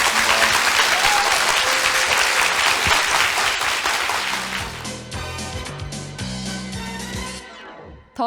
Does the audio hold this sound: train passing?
no